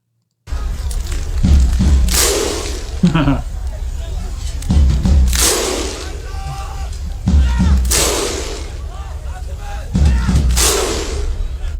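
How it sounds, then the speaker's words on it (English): A huge Iceland football crowd performs the Viking clap, with several booming, synchronized claps and chants rising over a continuous roar of crowd noise, spaced a few seconds apart. "they had a whole crowd of people get together and they were doing the Viking clap"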